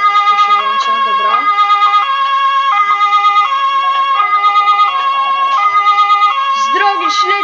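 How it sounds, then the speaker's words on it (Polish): Police car siren in the Police Simulator video game, a loud continuous wailing tone with shifting harmonic pitch that runs the whole time, with brief voice-like sounds mixed in. "No to pojedziemy na syrenę"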